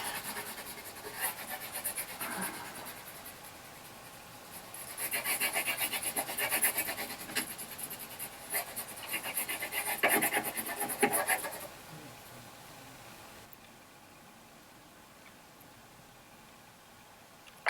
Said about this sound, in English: Get your blue crayon. Color the back.